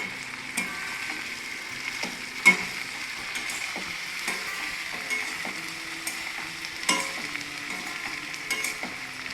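Chopped onions and 4-5 slit green chillies fry in a wok with ivy gourd, a quiet sizzle marked by scattered clinks and scrapes of stirring, with one sharper knock, and no talking.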